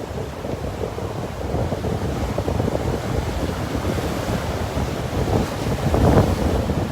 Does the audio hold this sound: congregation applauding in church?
no